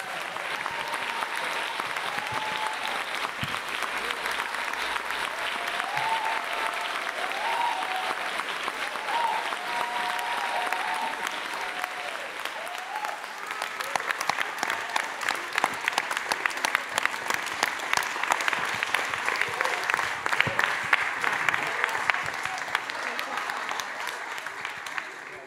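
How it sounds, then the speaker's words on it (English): A concert audience applauds after a jazz performance at the Radcliffe Institute. Sustained, dense clapping runs for about twenty-five seconds and swells louder and fuller in the second half. "What an incredible performance. Can we get another round of applause"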